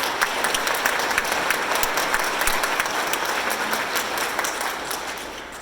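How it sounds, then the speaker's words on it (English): Steady applause from an audience at a downtown Louisville civic event, a dense, even patter of many hands clapping that holds for several seconds before tapering slightly at the end. "So let's give a round of applause for"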